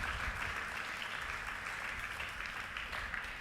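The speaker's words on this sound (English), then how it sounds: "applause once again for Pasan Jayasinghe" Audience applause at a literary prize ceremony, a steady even wash of clapping held at moderate distance and fairly soft throughout, with no voices breaking through.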